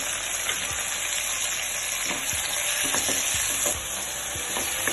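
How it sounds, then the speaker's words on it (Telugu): Tomatoes with salt cook down in a pan for gongura egg masala curry, giving a dense, even sizzle with repeated soft scraping strokes of stirring, close and with no one speaking. "టమాటాలు కొద్దిగా సాల్ట్ వేసి మగ్గనివ్వాలి"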